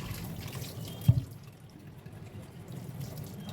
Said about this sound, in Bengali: ধুয়ে নিয়েছি অনেকবার চার পাঁচবার ধুয়েছি ভালো করে জল ফেলে ফেলে পরিষ্কার জল বেরোচ্ছে